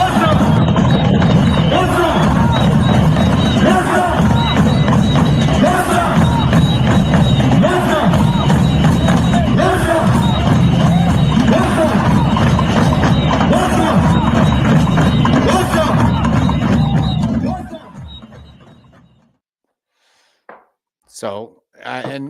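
A dense roar of a large protest crowd, with many voices blending into steady babble and shouting for most of the stretch, then cutting off abruptly into near silence with a few brief sounds.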